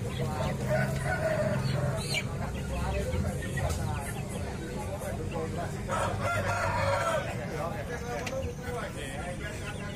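Several roosters crow repeatedly amid clucking fowl at a large live poultry market in Indonesia, a busy crowded chorus of birds with people talking in the background.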